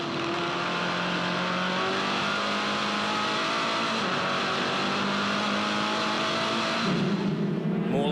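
A Formula Ford race car engine runs at high revs during a 2008 circuit race, a sustained buzzing whine with a sharp rev flare on a downshift near the end.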